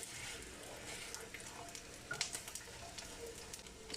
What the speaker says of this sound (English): I'm gonna fry it like pancakes